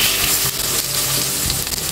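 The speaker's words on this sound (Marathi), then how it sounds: "आता पुन्हा गॅस मीडियम ठेवायचा आहे आणि मीडियम आचेवर फ्राय करून घ्यायचे" Black pomfret fish frying in plenty of oil in a pan over a medium flame, a steady dense sizzle with faint crackles and spatter running continuously up close.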